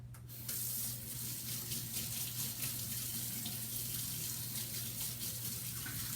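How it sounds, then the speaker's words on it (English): Hands are washed under a steadily running kitchen tap, a constant splashing hiss of water at moderate volume that starts abruptly and continues uninterrupted. "now let me wash my hand"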